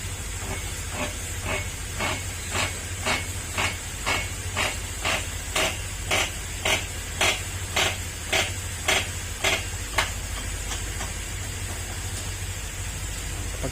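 Bearing being pressed into the shock drive of a Honda Beat scooter, heard as a steady run of about twenty sharp metallic knocks at even half-second spacing over a constant hiss.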